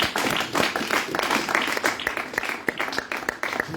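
A church congregation claps together in a steady, dense round of applause, with individual sharp claps standing out, close and fairly loud.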